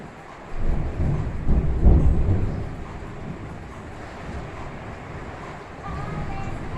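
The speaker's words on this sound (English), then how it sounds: "I think a storm is coming." Thunder from a storm rolls as a low, swelling rumble early on, then fades into a soft steady background wash.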